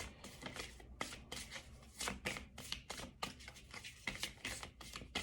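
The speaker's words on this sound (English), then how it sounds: "Oh, I went back to shuffling that way again." Tarot cards are shuffled by hand in a rapid, continuous flurry of papery riffles and slaps, close and fairly quiet, with no voices.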